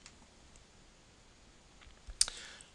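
A single sharp computer mouse click lands near the end of an otherwise quiet stretch in an office setting, brief and close.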